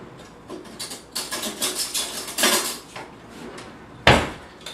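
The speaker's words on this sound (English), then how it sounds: "Actually, I'm going to get a different spoon." Kitchen utensils being rummaged for a different spoon, with a run of close metallic clatters and clinks followed by one louder clank near the end.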